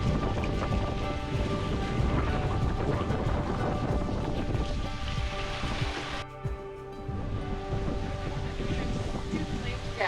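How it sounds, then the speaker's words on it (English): A sailboat cruises downwind under Hydrovane self-steering, with a steady rush of wind and water against the hull, a brief dip partway through, and voices talking faintly underneath. "We're just cruising with the wind."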